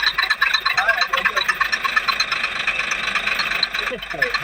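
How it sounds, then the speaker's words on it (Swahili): A small car's engine idling close by on a flooded Nairobi road at night, a steady mid-pitched rumble with rhythmic pulsing, heard under someone talking. "Gari ndogo anataka kuenda."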